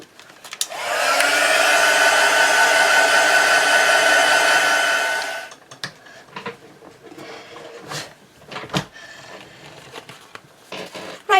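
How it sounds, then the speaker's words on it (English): A heat gun blasts steadily for about five seconds to dry ink on a junk-journal tag, a loud continuous whoosh that cuts off abruptly, followed by quiet handling clicks and rustles. "I'm just going to pop on my heat gun"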